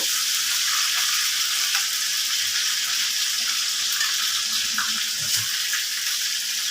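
Chicken frying in hot oil with garlic and pepper, a steady bright sizzle and crackle with occasional stirring clinks, close and continuous with no talk.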